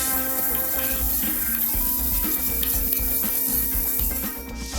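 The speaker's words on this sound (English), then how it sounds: "we want to cook this rice to where it's not white anymore" Rice frying on high heat in an oiled pan for fried rice, a steady close sizzle with scraping and stirring from a utensil moving the grains.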